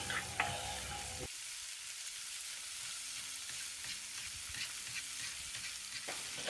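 Crushed chili powder sautéing in oil with softened onions for dal sambar, a soft, steady sizzle with light stirring; a brief louder scrape at the start and again near the end.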